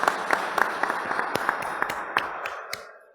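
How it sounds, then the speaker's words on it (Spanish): Audience applause at an international criminal procedure law seminar, a dense round of clapping with sharp individual claps standing out, steady and fairly close, then tapering off toward the end without any talking. "vamos a recibir con un fuerte aplauso"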